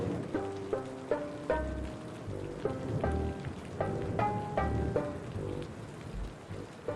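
Steady cartoon rain falls as a constant hiss of drops, mixed with a slow, sparse melody of musical notes and occasional low thumps.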